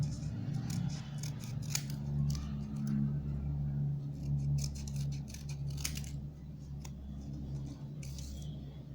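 Scissors cutting paper for a paper bird craft, a run of crisp snipping cuts in bursts over a low steady hum, close and fairly quiet, with no talking.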